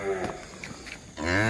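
A bull at a cattle farm lets out two loud, close moos, one at the start and a longer one at the end, separated by a brief lull.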